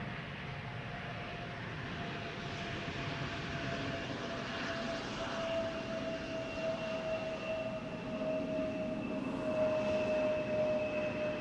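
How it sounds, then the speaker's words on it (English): Embraer 175 jet in Star Alliance livery landing at Schiphol airport, a steady broad engine roar with a thin whine, held at a constant distance and swelling slightly toward the end, with no talk. "The landing, of course, very polished. Embraer 175."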